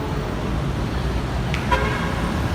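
Steady roar of city traffic at the corner of D.A. Rufino and Ayala Avenue in Makati, with engines rumbling throughout and a couple of short car horn toots near the end.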